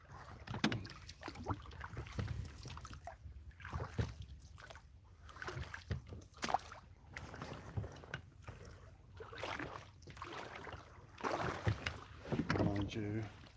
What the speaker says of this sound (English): good luck to me paddling against this tide now